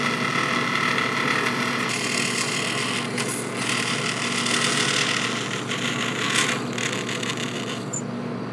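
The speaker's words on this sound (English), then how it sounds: "I got a dreadnought file." A dreadnought file rasps across aluminum in a shop, a continuous gritty scraping with overlapping strokes and a few sharper scuffs, fairly close and steady throughout.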